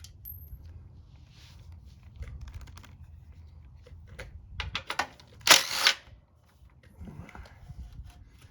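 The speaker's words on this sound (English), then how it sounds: "It's a washer and a lock washer I'm dropping." A washer and lock washer from a 1967 Honda CT90 drop onto a hard surface with a short cluster of bright metallic clinks and rattles, close by, amid quiet workshop handling noises.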